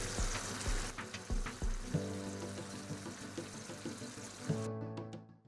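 Bone broth poured into a cooking pot, a steady liquid splash and trickle with sizzling underneath, a few soft knocks early on, fairly quiet and close, no voices.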